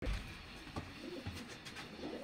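Pigeons kept in a rooftop loft coo softly and repeatedly at close range, low murmuring calls over faint background noise, with no talking.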